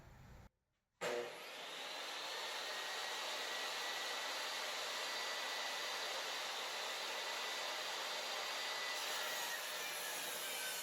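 A saw cuts through a wooden sign blank board, starting abruptly after a short quiet gap and then running as a steady, loud, unbroken whine with no talking.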